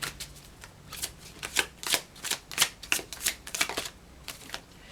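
Tarot cards being shuffled during a pick-a-card reading, a run of crisp papery riffles and snaps in an irregular rhythm, close and fairly soft, with no talking.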